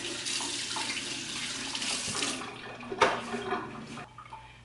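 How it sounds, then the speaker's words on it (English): A kitchen tap runs steadily while hands are washed during preparation of bacon cabbage rolls. The close, rushing water continues with small splashes and shifts, then cuts off near the end. "I'm going to wash my hands"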